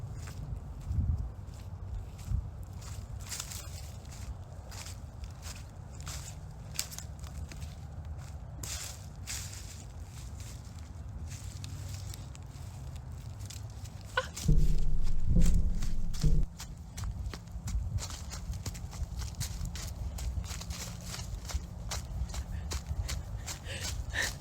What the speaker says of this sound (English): Footsteps can be heard approaching